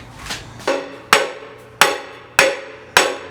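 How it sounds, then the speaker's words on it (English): A real hammer strikes repeatedly while a free standing punching bag is being built, five or six sharp, loud, close blows at a steady pace of roughly one every half second, each ringing briefly. "Use a real hammer, not a rock."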